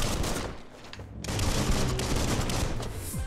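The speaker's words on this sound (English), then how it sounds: "Oh, he's got a gun." Dense, loud gunfire in the video game Biomutant, a near-continuous burst of rapid shots that briefly drops back and then surges again, filling the whole clip with harsh noise.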